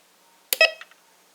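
A Bounty Hunter Tracker IV metal detector switching on, giving one short electronic chirp followed by a couple of fainter tonal blips, close and clear against near silence.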